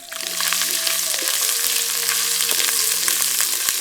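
Ground ginger garlic paste sizzles steadily in hot peanut oil with green chillies, a loud continuous frying hiss with small crackles and pops throughout.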